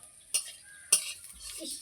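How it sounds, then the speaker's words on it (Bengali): Onion and garlic sizzle in a hot pan while a utensil scrapes and stirs, with two sharp clinks against the pan over a steady frying hiss. "আমার পেঁয়াজ রসুন খুব সুন্দর ভাজা হয়ে গেছে, এইবার আমি তুলে নিচ্ছি পেঁয়াজ রসুনটা।"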